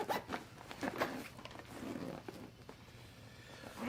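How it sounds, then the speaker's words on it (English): The zipper of a cheap fishing tackle backpack is pulled closed over a compartment: a string of short, raspy zipping strokes, close up, with a few soft handling bumps and no speech. "I'm going to zip that closed."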